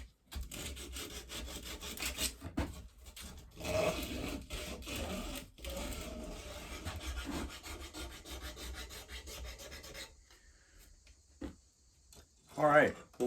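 A traditional cow horn powder horn being sanded by hand with 60 grit sandpaper, producing steady close rasping strokes in a repeating back-and-forth rhythm, then pausing before a few final scrapes, with a voice talking over parts of it.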